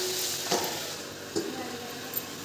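Long beans and beans fry in a pan with a soft, steady sizzle, broken by a few short scraping knocks as they are stirred.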